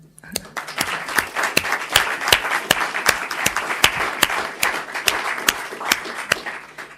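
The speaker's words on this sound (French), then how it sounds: "je propose qu'on lui applaudisse quand même" An audience at a talk on a European finance-climate pact gives a departing guest applause: individual sharp claps stand out over a moderate, even clapping crowd that rises quickly and continues steadily.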